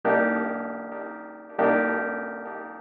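Two sustained synth or instrument notes pass through a ping-pong reverse delay effect in Studio One. Each note starts abruptly and decays smoothly, close and fairly loud, with no voices.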